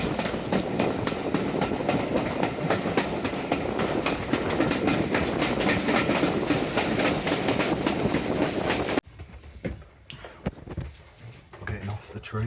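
Steady rhythmic clatter of wheels and rolling carriage noise from a steam train ride on the Ecclesbourne Valley Railway, heard from inside, loud and continuous before cutting abruptly to a quieter interior with faint movement.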